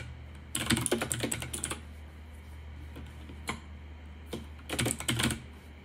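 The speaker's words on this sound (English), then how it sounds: "I'm gonna put my name in, set my computer name, pick a username, choose a password, and confirm my password." Computer keyboard typing during a Linux installation comes in two quick close bursts of rapid clacking keystrokes, with a few single key taps in the quieter gap between them and a low steady hum beneath.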